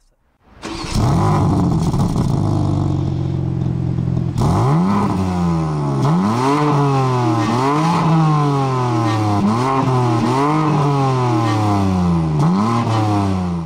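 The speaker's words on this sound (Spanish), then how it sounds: "Tienes un botón aquí en la consola central que presionas para activar el escape deportivo" A BMW M4 CSL sport exhaust starts up, then revs repeatedly in sharp rising blips that fall back, loud and close throughout.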